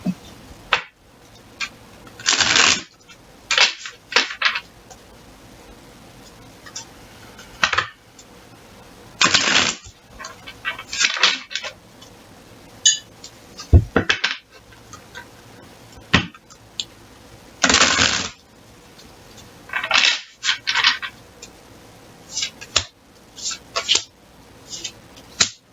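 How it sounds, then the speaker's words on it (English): A tarot deck is shuffled by hand close to the microphone in a dozen or so short, crisp bursts of riffling and slapping cards, separated by near-silent pauses. "Shuffle 3 times."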